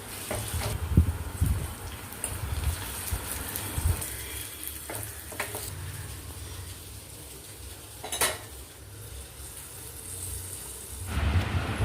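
Hot tempering of shallots and chili powder hitting mango pulissery curry in a pan, a steady sizzle with a few metallic clinks of utensils against the pot, close and moderately loud, no talking.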